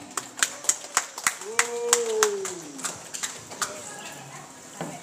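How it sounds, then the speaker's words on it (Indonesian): An audience claps after an environmental-themed dance performance at a school event, a run of sharp distinct claps fading into scattered ones, with a voice heard over the clapping. "Sekali lagi kita berikan aplaus yang meriah"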